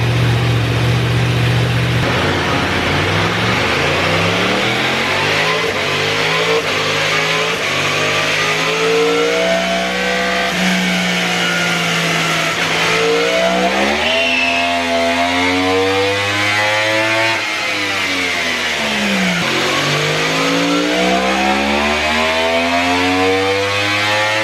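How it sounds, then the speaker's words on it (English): A 2024 Yamaha R1 sport bike fitted with a full Akrapovic exhaust fires up and warms up, its loud, close engine revving repeatedly in rising and falling sweeps over a steady idle, with no talking. "let me start up the bike, let me get it warmed up and do some baselines."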